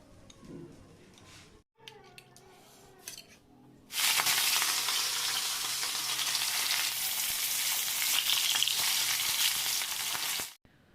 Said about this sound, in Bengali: মাছ ভাজা কমপ্লিট